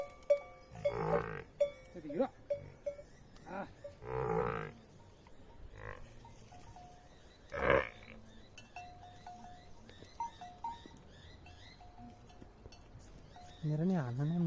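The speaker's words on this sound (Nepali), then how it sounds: "यो भैँसीहरू बल्ल लेकबाट झरेछ" Herd of buffaloes coming down from high hill pastures, bellowing loud calls in scattered bursts with bells clinking in between; a herder calls and people talk nearby.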